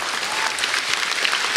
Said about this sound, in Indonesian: Tepuk tangan buat Kompas TV.